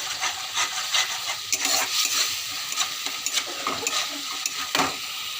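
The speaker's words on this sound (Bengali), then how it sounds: "সামান্য জল দিয়ে মশলাটাকে একটু কষিয়ে নেবো ভালো করে" Spice paste being stirred and fried with a little water in a pan, a steady close sizzle overlaid with repeated scraping strokes of the spatula, with no voices.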